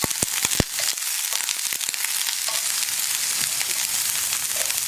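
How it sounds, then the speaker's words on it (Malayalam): Chopped cauliflower and carrot for a thoran sizzle loudly in a pan, with a burst of sharp scraping and clacking stir strokes at the start and then a dense, continuous frying hiss. "ഇനി ഇത് രണ്ടും ഇളക്കി ചേർത്ത് നന്നായിട്ടൊന്ന് മിക്സ് ചെയ്തതിന് ശേഷം"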